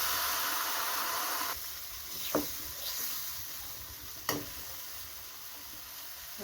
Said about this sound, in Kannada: ಒಂದು ಚಿಕ್ಕ ಬಾಣಲೆ ಇಟ್ಕೊಂಡು ಒಂದು ಪೀಸು ಚೀಸ್ ಹಾಕ್ಕೊತಾ ಇದ್ದೀನಿ.